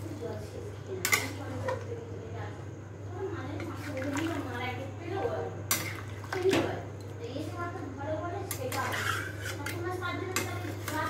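Water is poured into a pot of spicy curry being cooked at a picnic, giving a sloshing splash under ongoing nearby talk and occasional clatter of pots and utensils.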